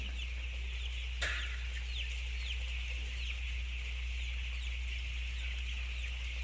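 Broiler chickens cluck and chirp steadily in a busy indoor poultry house bedded with used rice husks, with a constant low mechanical hum underneath and one sharp knock.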